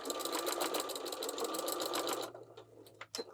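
A sewing machine runs fast and steady while back stitching at the end of a seam on a waist apron, a dense rhythmic whir for about two seconds that then stops, followed by a few faint clicks and handling noises.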